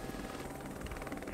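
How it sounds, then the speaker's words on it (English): Helicopter lifting off from the Water and Power Building rooftop near the 101 in Los Angeles, a steady close rotor thrum with a pulsing beat and no talk. "Helicopter DWP will be lifting off of the Water and Power Building northwest of the 101"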